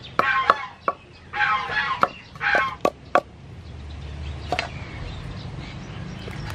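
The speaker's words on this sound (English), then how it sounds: "Pound garlic with chili." A pestle pounds garlic with chili in a mortar, giving a string of sharp, irregular thuds up close, with clucking chickens in the background.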